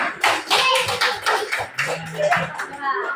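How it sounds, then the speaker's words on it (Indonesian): A classroom of children claps together in short irregular bursts, close and lively, with a teacher's voice and chatter mixed in over the hand claps. "Tepuk tangan semua."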